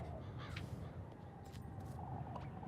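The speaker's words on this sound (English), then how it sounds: "This crow, it's speaking to me." A crow in a video game caws several times, short harsh calls scattered over a rough, steady ambient background.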